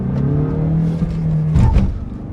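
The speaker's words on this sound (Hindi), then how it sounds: "निकल गई सफारी, आगे निकल गई भाई।" A 2023 Tata Safari SUV accelerating in a drag race against a Scorpio N, a loud close engine drone rising in pitch with a gear-shift dip and wind rumble.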